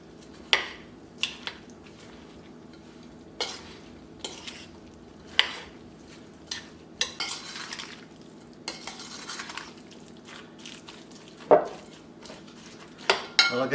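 Christmas pudding mixture being stirred by hand with egg and liquid in a bowl: quiet wet squelching with a scattered series of clinks and knocks of spoon against the bowl, close and without speech.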